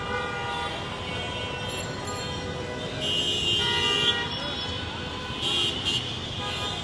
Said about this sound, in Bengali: এদিকে বাংলা মোটর থেকে একদম শাহবাগ পর্যন্ত পুরো রাস্তাটা জ্যাম হয়ে আছে